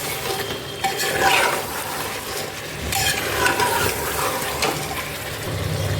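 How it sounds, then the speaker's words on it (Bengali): Fried pointed gourd stirred into a pan of meat with potatoes, giving a steady sizzle with spatula scrapes and stirring clatter, moderately loud and close, no voices. "সেই পটলটা আমি দিয়ে দিচ্ছি। দিয়ে আমি 30 সেকেন্ড কষে নেব।"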